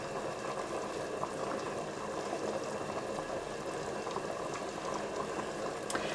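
Macaroni sauce bubbles at a steady simmer as cheese melts into it, a continuous soft boiling and popping with a faint clink near the end, fairly close and without talk.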